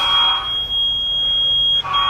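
A building fire alarm sounds during work on a fire sprinkler flow switch. It is a loud, continuous, piercing high-pitched electronic tone, close by and unbroken, with a brief dip in level near the end.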